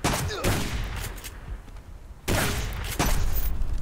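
Magnum shots boom in the survival video game Subsistence, several loud blasts with short gaps between them, hitting hard against a steady background din.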